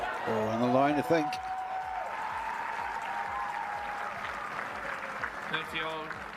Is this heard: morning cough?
no